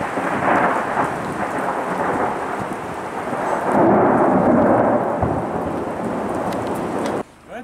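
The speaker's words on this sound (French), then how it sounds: "Et de temps en temps des énormes tonnerres." Thunder rumbles heavily over steady rain at a mountain refuge, a deep rolling roar swelling midway before cutting off, with the hiss of rainfall throughout.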